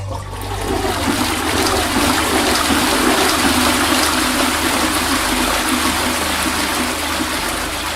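Toilets flushing one after another in the stalls beside a bathroom where someone is showering, a loud steady rush of water that runs unbroken for about eight seconds, used as an effect in a ghost story about a haunted toilet.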